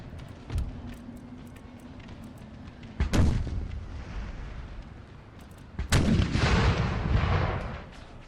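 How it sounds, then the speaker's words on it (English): Artillery fire in Empire: Total War, an American Civil War battle: a few heavy booming cannon blasts spaced seconds apart, each followed by a rolling rumble, over faint low battlefield noise with no talk. "I love watching that artillery come in."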